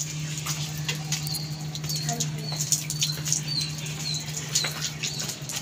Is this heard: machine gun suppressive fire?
no